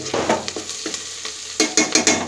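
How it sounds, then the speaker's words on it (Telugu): Onion, coriander and curry leaves frying in a pan, a loud nearby sizzle broken by repeated stirring scrapes in an irregular rhythm, with no speech. "ఫస్ట్ ఇవన్నీ ఫ్రై చేసుకోవాలా? ఫ్రై చేసుకోవాలి మంచిగా."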